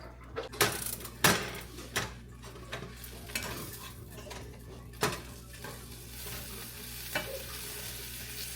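Eggs fry in a breakfast pan with a constant close sizzle, broken by sharp clinks and scrapes of a utensil against the pan.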